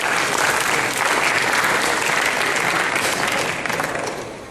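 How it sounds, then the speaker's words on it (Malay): Audience at a forum on Egypt and Tunisia gives the panel a burst of steady applause that holds strong for several seconds and then tapers off. "kita berikan satu tepukan dulu untuk dua orang yang panel kita"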